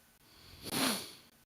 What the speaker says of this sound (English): Sniffle, sniffle.